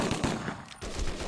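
Rapid bursts of gunfire from the 25 To Life video game crack out in a dense, continuous volley with only a brief lull near the middle. The firing is loud and close throughout.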